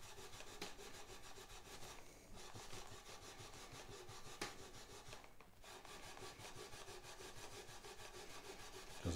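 Steady back-and-forth rubbing and rasping of guitar frets being polished during a setup on a cedar acoustic guitar, a close, continuous gritty scrubbing rhythm with no talk.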